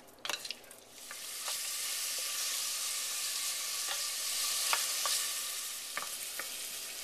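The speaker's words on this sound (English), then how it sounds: "We're going to let these cook once they come to a sizzle for about 5 minutes" Chopped onions frying in a pan for homemade ketchup, a steady loud hiss of sizzling with occasional sharp clicks and scrapes of stirring, no talking.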